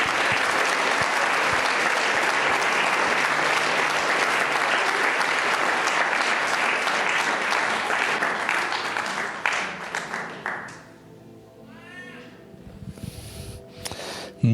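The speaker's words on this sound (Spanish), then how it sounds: "Del aplauso al Señor." A church congregation bursts into enthusiastic applause, thick and loud for about ten seconds before fading quickly into a quieter room with scattered faint sounds.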